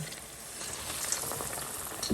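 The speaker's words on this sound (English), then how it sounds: "Then we'll dip this in besan and fry it." Bread pakora dipped in besan batter sizzles and crackles in hot oil, a close, steady frying hiss with small bubbling pops and no talking.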